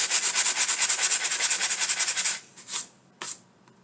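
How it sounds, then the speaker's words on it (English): Sandpaper rubs dried glue off a homemade Christmas sign in a fast, even run of close scratchy strokes, then stops, followed by a few scattered light rubs. "just use your sandpaper, sand it down."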